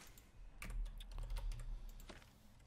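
Rapid, uneven clatter of keys on a computer keyboard, close and fairly quiet, with bursts of clicks spread across a couple of seconds and no voices.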